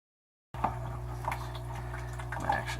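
Aquarium filter media being rinsed by hand in sump tank water, a steady low hum of pumps underneath with soft splashing and sloshing throughout.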